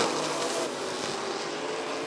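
Late model race cars roar past together at Rockford Speedway, a dense, loud, steady engine drone with no talking.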